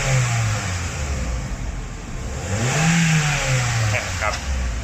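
A Toyota Altis car engine revs up and settles back, a steady mid-pitched hum rising and falling over several seconds, close by.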